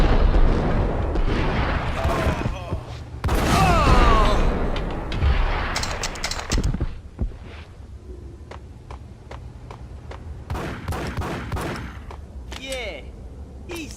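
Gunfire rings out in the Max Payne video game, with bursts of loud shots and booming impacts mixed among game dialogue and voices, heaviest early and then thinning to scattered single cracks.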